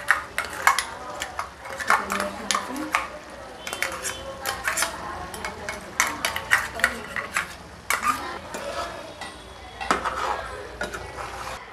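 Onion paste being added and stirred into a pan of curry gravy for a goat-head (thalakaya) pulusu, with repeated close metallic scrapes and clinks of a spoon against the pan at an uneven rhythm, under a steady background hum.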